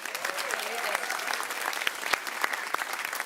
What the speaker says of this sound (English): So I think another round of applause for coming out and doing that.